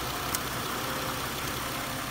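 A faulty 3.2 liter engine from a 1992 Acura Legend runs in a test, giving a steady, even drone at low level with no talking.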